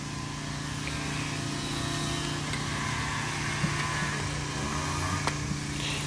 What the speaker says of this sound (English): They decided to cut the lawn and all that good stuff as soon as I start my video